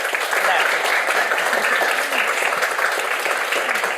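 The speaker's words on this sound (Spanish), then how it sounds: "Un aplauso para Cami Donoso." An audience claps steadily and enthusiastically throughout, a dense, even applause with no voices breaking through.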